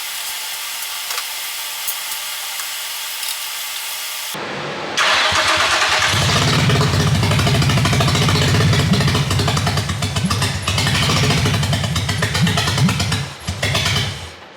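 A steady hiss gives way to a drift car engine cranking and catching, then a loud, raw, rattling idle close by with no exhaust after the headers, rough and unmuffled, sputtering near the end.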